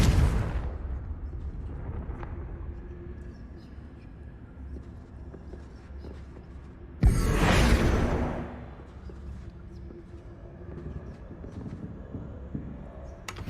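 A Confringo fire spell goes off in Hogwarts Legacy on PS5, a sudden loud blast with a rushing whoosh that fades over about a second amid quiet game ambience.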